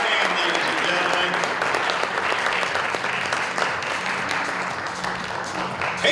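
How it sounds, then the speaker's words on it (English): Loud, sustained applause from a pageant audience fills the hall for a contestant, steady dense clapping with crowd noise and an announcer's voice over it. "Give her a hand, ladies and"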